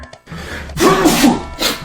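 One person's sneeze: a quiet sharp intake, then a loud voiced burst and a shorter follow-on blast, heard up close indoors.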